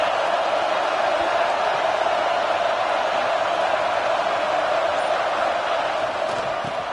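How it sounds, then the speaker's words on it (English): Stadium crowd at an Alabama football game, a dense, steady roar of many voices cheering from all around, continuous and even in level throughout. "This crowd ready to make its presence known"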